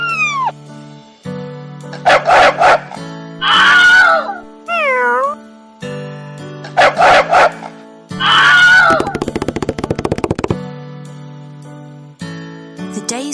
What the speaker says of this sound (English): The dog barked at the ugly duckling